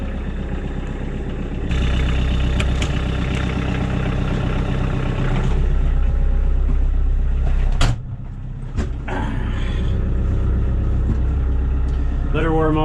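A farm tractor idles while warming up on a cold morning before snowblowing with an MK Martin Meteor 72-inch blower, a steady low rumble running throughout, with a couple of brief clunks and a voice talking over it.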